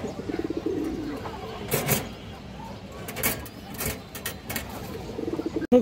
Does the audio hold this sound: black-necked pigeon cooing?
yes